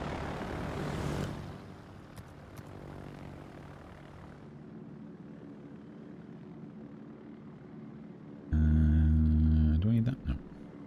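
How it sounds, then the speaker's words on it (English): Aircraft engine noise from a carrier plane in the naval game World of Warships: a rough, broad roar that fades after the first second, then a loud droning engine burst near the end. "prepare for some very loud engine noises"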